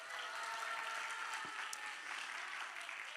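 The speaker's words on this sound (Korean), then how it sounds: "우리 박수 한번 주세요" Applause from a church congregation, a steady wash of clapping hands throughout, moderately distant and even in level, with no voices over it.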